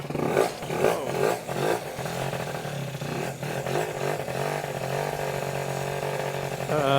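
A Yamaha BWS 50 scooter engine, choke disconnected and flooded, sputters and struggles at close range, its uneven buzzing firing pulses settling into a steady rough drone that keeps wanting to die out, with no talking.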